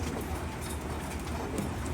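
Racing pigeons at a loft, with faint, low cooing and fluttering under a steady wash of background noise, continuous and fairly distant-sounding.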